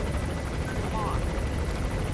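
A helicopter in Metal Gear Solid V drones with a steady, low rotor rumble, constant and fairly close, filling the whole moment without breaks.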